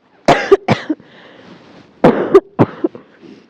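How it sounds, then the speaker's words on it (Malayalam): Two bursts of harsh coughing, each a quick cluster of three or four coughs, loud and close, separated by a brief pause. "എനിക്ക് ചുമക്കാൻ പേടിയാവുന്നു."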